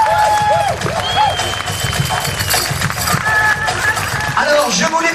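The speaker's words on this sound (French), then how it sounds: "des applaudissements plus que chaleureux pour tous les enfants qui viennent de danser" Sustained, enthusiastic applause from a large audience after a children's dance show at a pow-wow event, continuous dense clapping with no break throughout.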